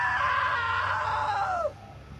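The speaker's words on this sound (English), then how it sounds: "Now that was a great scream." A long, loud scream from the video game What Remains of Edith Finch, strained and wavering, then bending downward and cutting off abruptly into quiet room tone.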